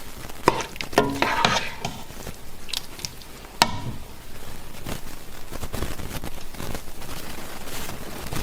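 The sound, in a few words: stirring chicken vindaloo curry cooking uncovered in a pot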